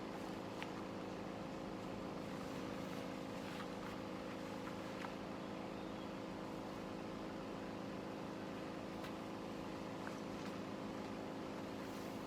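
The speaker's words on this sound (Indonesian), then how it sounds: "Kapal besar itu pun perlahan menjauh dari pantai." A large ship putting slowly out from the shore, heard as a steady, continuous low engine drone with faint hiss and occasional light knocks. No voices.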